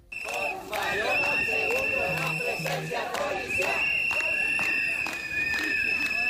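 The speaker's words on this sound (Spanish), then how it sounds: "Este es el sonido de una manifestación que partía desde este barrio de la capital para acabar en la delegación del gobierno" A residents' street protest march in the Chamán neighbourhood of Las Palmas demanding more security: a loud, continuous crowd roar with chanting, whistles and horn-like tones throughout.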